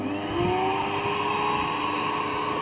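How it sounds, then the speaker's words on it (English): A physics lab air track blower runs with a dense, steady roaring whoosh, loud and constant throughout, with no voices. "So let's start up the blower."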